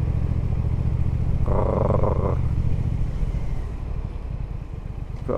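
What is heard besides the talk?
2018 Triumph Thruxton R motorcycle engine purring at low revs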